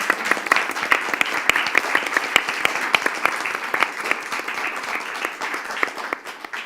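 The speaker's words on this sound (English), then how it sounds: "I think we should give them an applause." An audience at a climate storytelling event breaks into warm applause, many hands clapping in a dense, even patter that holds steady for several seconds before thinning slightly.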